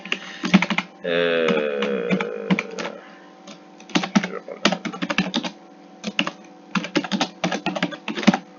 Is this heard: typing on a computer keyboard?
yes